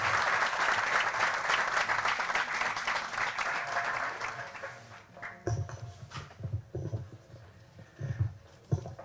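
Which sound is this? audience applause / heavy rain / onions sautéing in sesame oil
audience applause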